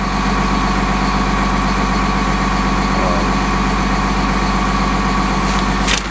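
A Caterpillar 815F2 soil compactor's diesel engine idles at a steady, close, loud drone throughout, with a brief higher mechanical hiss near the end and no talking.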